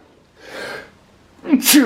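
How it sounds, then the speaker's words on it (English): A single sharp sneeze close up, preceded by a soft breathy intake, with a short burst at the end. "Bonus sneezes."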